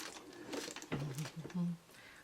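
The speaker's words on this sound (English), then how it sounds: "I'm just going to sew this down with a little curve." A sewing machine stitches a curved seam on a quilt block in short, uneven bursts that start and stop over about two seconds, close and moderately quiet.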